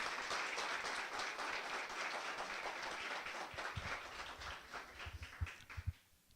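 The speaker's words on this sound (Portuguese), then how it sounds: "Vamos aplaudir o Senhor, que Ele merece?" A church congregation applauds during a Portuguese sermon, a fairly quiet, steady patter of many hands that thins into a few louder scattered claps before stopping.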